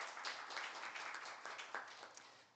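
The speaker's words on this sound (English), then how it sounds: "If you'd give them a clap to welcome them, please." A seated audience at a development cooperation forum claps to welcome panel speakers: steady, fairly faint, continuous clapping from many hands across the room, with no talk over it.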